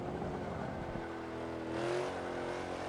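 A race car engine in a racing video game, a steady mid-level drone that dips off throttle, then swells again with a rising whine, with no voices.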